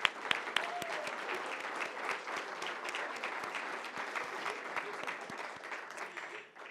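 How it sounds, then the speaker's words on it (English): Audience applause at a chamber of commerce event with the state governor, steady clapping from a crowd in a hall, moderately distant, with a few louder individual claps near the start, fading at the end. "Now we can applaud."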